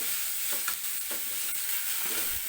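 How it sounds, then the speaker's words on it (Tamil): Onion, green chili and curry leaves are stirred and sautéed in a pan while making millet paniyaram, giving a steady soft sizzle broken by a few scraping strokes of the spoon. No one speaks. "இதை நல்லா வதக்கிக்கலாம்"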